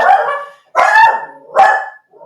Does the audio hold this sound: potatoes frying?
no